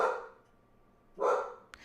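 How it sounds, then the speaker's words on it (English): Pet dog barking indoors, two short sharp barks about a second apart at moderate volume, with a faint yip at the very end. "Savannah, why are you barking?"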